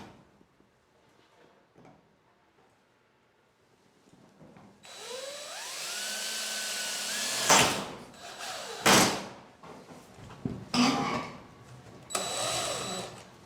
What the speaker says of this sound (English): long drill bit, go all the way through the wall